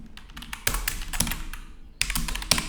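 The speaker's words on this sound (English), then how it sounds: "Let's type, so it's good for you." Keystrokes on a computer keyboard while writing Laravel code, a close run of quick clicky taps in two bursts with short pauses, no voices.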